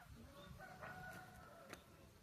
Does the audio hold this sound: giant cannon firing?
no